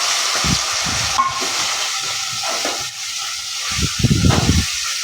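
Chicken pieces drop into two ladles of hot oil and set off a loud, continuous hiss and sizzle, with dull knocks of stirring rising and falling through it.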